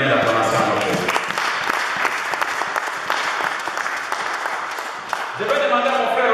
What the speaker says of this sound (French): Si on peut donner une main d'acclamation à notre Dieu